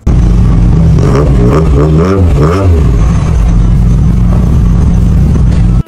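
A Toyota car engine runs loudly up close after an oil change and fresh coolant, idling with a steady low hum and rising in several quick revs early on before settling back to idle.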